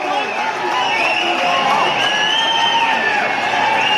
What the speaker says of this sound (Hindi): तालियां बजाइए खिलाड़ी के लिए